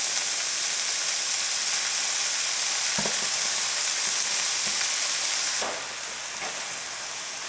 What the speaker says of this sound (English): I'm going to scoop that in to my cooked sausages,